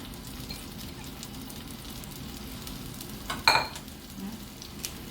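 Chopped ingredients hit hot coconut oil while cooking king fish head curry, making a continuous soft sizzle with one brief louder clatter of stirring partway through.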